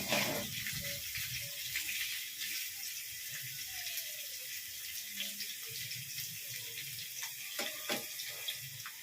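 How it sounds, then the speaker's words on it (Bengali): Potato and jackfruit pieces frying in a pan, a steady close hiss of oil with scattered faint pops and ticks running throughout. "আলু আর এঁচোড়ের টুকরোগুলো একটু লাল করে ফ্রাই করে নেবে।"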